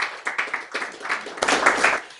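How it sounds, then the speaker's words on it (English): A short burst of audience applause for a speaker at a panel discussion on state police: a handful of distinct claps at first, then swelling into a denser, closer round of clapping that breaks off abruptly. "Please, a round of applause for him."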